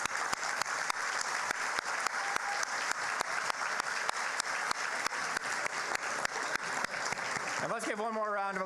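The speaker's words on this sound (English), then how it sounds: "And let's give one more round of applause for all teams tonight and the work that they did." Steady, dense applause from a debate audience celebrating the winning teams, sustained at an even level with regular sharp clap peaks before a voice begins at the end.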